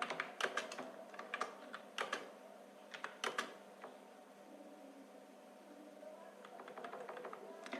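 Someone types on a computer keyboard, entering text into a Notepad file, with quick clusters of crisp, near keystrokes broken by short pauses and a lighter patter at the end. There is no talk.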